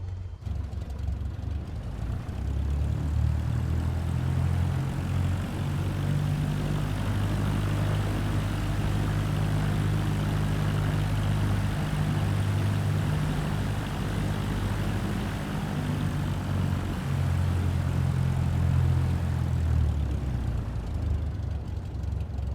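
Propeller airplane taxiing in Microsoft Flight Simulator 2024, a steady droning engine hum with low propeller tones held at constant power throughout, no voices.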